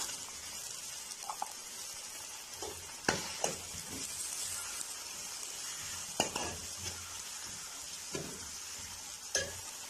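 Peas stirred into sautéed garlic in a hot pan, a continuous soft sizzle with several sharp spoon scrapes and knocks against the pan at irregular intervals, no talking.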